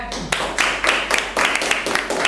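A small classroom group claps for presenters at a teacher performance exam, a few loud, close bursts of rhythmic handclaps in uneven clusters over a low steady hum.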